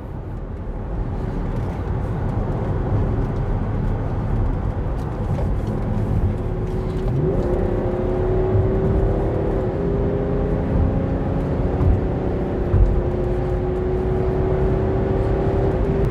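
Inside a third-generation BMW X5 SUV cruising at highway speed, a steady low road and tyre rumble fills the cabin, and a faint rising engine whine emerges partway through; nobody speaks.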